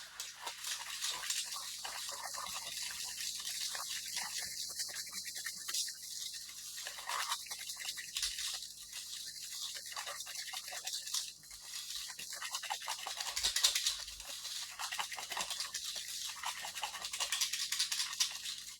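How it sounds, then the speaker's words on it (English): A spoon or whisk works an egg into a thick chocolate paste for Portuguese chocolate salami, giving a steady wet scraping and stirring that runs for about nineteen seconds with no talk. "And mix it all once again."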